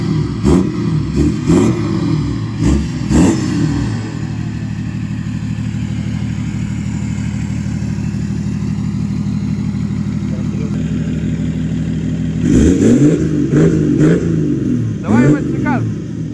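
A chipped turbocharged car engine revs hard in several rising and falling bursts, drops to a steady droning idle in the middle, then revs up again repeatedly, loud and close.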